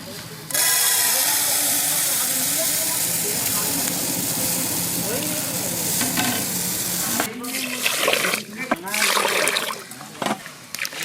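Gobindobhog rice being washed in water in a village kitchen: a continuous close wet swishing and sloshing, then broken splashes and stirring near the end.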